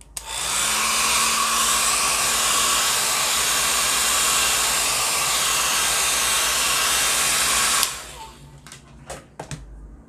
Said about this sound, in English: We're going to use a hair dryer.